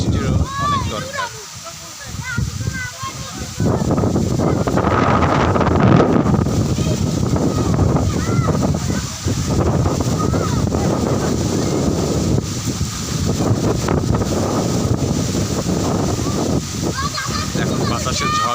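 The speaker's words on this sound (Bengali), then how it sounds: "এখন বাতাসের ঝড় উঠেছে" Strong wind roars outdoors before a storm, loud buffeting gusts battering the microphone for most of the stretch after a quieter opening few seconds, with a person talking over it.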